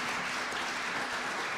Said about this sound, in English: Let's give Blake a round of applause for his